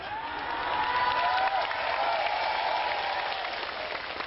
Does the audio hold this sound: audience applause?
yes